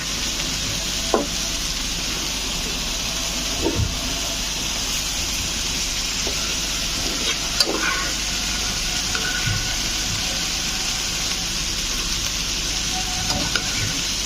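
Bitter gourd fries steadily in a pan at home, a continuous broadband sizzle with occasional soft clinks and stirring knocks throughout.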